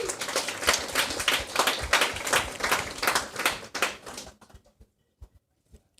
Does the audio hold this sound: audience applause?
yes